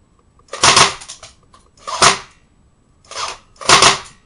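An A&K M60 airsoft machine gun fires four short bursts close by, each a sharp crackling rattle separated by brief pauses, with no talking over it.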